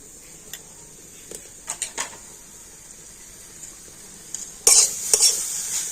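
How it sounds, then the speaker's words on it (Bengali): Grated coconut and sugarcane jaggery get stirred in a wok, a quiet background with scattered scraping knocks of the spoon and a louder clattering burst near the end, no talking. "এবার আমি নারকেল আর আখের গুড়টা ভালো করে মিশিয়ে নেব"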